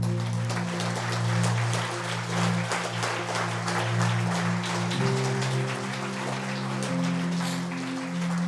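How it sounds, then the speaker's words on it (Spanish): A church congregation claps loudly and continuously for several seconds, a dense, sustained roll of hands beneath a held organ or keyboard chord that shifts pitch. "Dale un aplauso fuerte al Señor"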